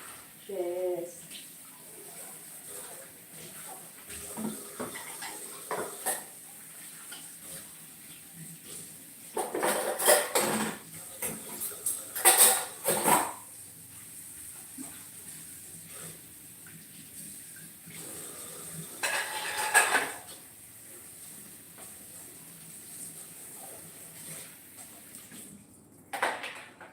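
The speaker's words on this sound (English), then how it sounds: "let me just finish this. Wash my" Dishes, pots and cutlery being washed in a sink under running water, with clinks and clatters rising in bursts over a steady faucet flow, loudest around the middle and toward the end.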